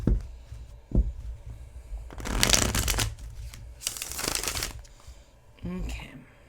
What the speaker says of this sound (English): Super easy shuffle, like I said, because they are thin, they shuffle very easily.